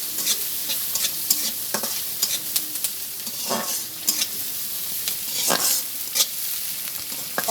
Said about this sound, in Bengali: এখানে আমি পেঁয়াজ ভেজে নিচ্ছি, আর সাথে একটা নোনা ইলশার চাট আছে, তো একসাথে আমি ভেজে নেব।